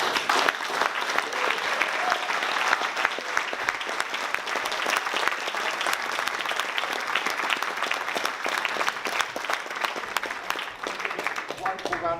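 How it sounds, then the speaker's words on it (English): Audience applause after a leadership speech, a sustained, dense wash of clapping from a large crowd, loud and continuous throughout. "Wonderful round of applause for Aletta."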